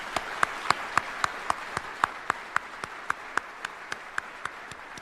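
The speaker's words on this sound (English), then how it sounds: "let's give your folks a round of applause" Slow, evenly spaced hand claps sound at a military retirement ceremony, about twenty crisp separate claps in a steady rhythm over a quiet room background, fairly faint.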